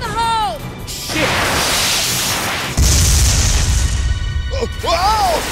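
A grenade blast in the video game Binary Domain lands as a loud, broad crash with a heavy low rumble, sustained for several seconds amid game noise, with a voice shouting before and after.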